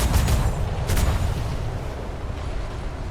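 Sailing-ship cannons fire in a roleplay game, a heavy booming volley of two or three close blasts in quick succession early on, followed by a long rumbling decay. No talking.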